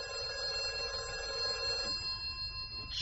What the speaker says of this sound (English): The phone rang at 6:30.